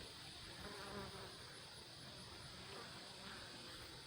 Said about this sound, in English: Always chock full of bees.